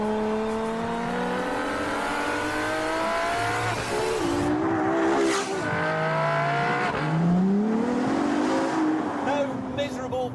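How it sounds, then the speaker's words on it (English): A Ferrari V12 supercar engine revving hard, its tone climbing and dropping through several rising sweeps, loud and close with a brief whooshing pass midway. "The sound of 12 cylinders properly arranged in a V."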